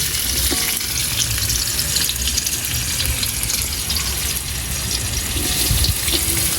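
Onion frying for Jaffna chicken kothu, a loud dense sizzle that runs steadily throughout with a watery, hissing roar and faint stirring, close up with no talk.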